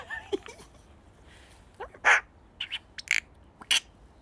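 Magpie calls outdoors, a few short harsh chattering bursts scattered through a quiet stretch, moderately close and clear, with faint background sounds between them.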